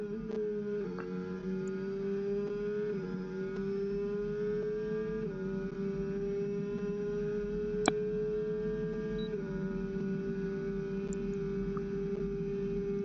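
Simulated F1 25 race car screaming flat out down the long back straight at Monza, a steady high-pitched engine whine rising gradually with a few gear-shift dips, loud and continuous with no voices.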